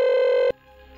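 A telephone in an Indian household rings with a loud, steady electronic tone for about half a second, then cuts off, leaving faint room noise.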